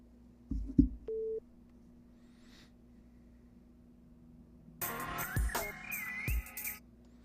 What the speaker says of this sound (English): Let me see if I can call Juju back.